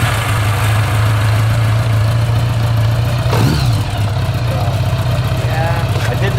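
A Honda GoldWing motorcycle's boxer engine idles loud and close, with a steady low rumble and a brief throttle blip midway.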